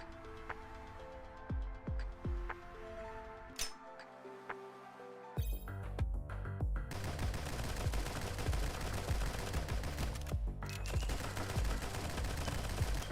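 SMG fire in the game GunCraft: short rattling bursts with metallic clinks at first, then sustained rapid automatic fire that goes on for several seconds without talk.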